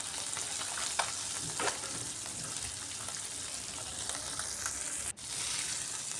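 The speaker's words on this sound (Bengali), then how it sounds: "একদিক ভাজা ভাজা হয়ে যাওয়ার পর অপর দিকটা উল্টে একটু লাল লাল করে মাছগুলোকে ভাজবো।" Tengra fish frying in a pan over a very low gas flame, one side browned before turning, giving a steady close sizzle and crackle throughout with a brief clink near the end.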